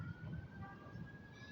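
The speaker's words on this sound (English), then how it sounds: "I hear some sirens, so somebody acting the fool somewhere." A faint siren wails in the distance, its steady high tone drifting over a low rumble of outdoor background noise.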